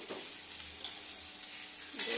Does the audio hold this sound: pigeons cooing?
no